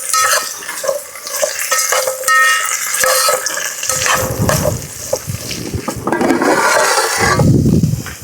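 Drumstick vegetables and green chillies frying in a pan for village-style sambar, loud close sizzling with busy scraping stirs and metal clatter, swelling and shifting throughout, no speech.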